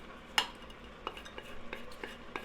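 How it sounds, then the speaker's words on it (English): A spoon stirs sweating corn and freshly added garlic in a cooking pot, giving a sharp clink followed by a string of soft scraping taps against the metal, quiet and close with no talking. "we're just going to stir that into the bottom"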